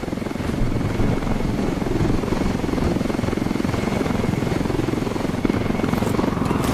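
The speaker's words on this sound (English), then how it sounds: "base jumping from the helicopter" A helicopter in the video game Ghost Recon Wildlands gives a steady, loud rotor thrum and engine whine that fills the whole stretch without letup, alone with no voices.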